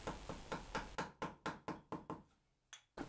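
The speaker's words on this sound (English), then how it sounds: "I square off the corner with a chisel" A chisel squares off a corner cut into plywood with about a dozen sharp, close, evenly spaced knocks, then a short pause and two final taps.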